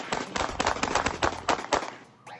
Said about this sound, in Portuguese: Moradores acordam em meio ao tiroteio